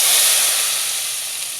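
Hot tadka (tempering) hits a pot of dhaba-style dal chana with a loud, bright sizzle and steamy hiss that starts at full force and eases off slightly over a moment, with no talking.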